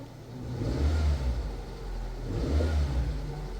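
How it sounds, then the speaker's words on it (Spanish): Peugeot Partner / Citroen Berlingo 1.4 petrol engine with an ECU fault revs up suddenly twice from a low idle, each surge swelling and dropping back, heard close with no talk. "Y el motor se acelera de golpe."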